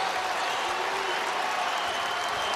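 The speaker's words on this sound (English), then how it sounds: "The crowd is on its feet." Home basketball crowd in an Indianapolis arena, cheering and applauding in a dense, steady roar that holds throughout without breaks.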